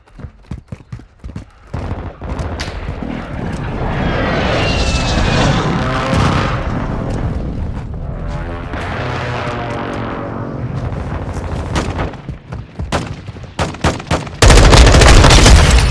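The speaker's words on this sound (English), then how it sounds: "Friendly airstrike in the AO." A friendly airstrike in Call of Duty Modern Warfare: a loud aircraft roar swells and passes overhead amid bursts of gunfire and sharp cracks, ending in a heavy sustained blast.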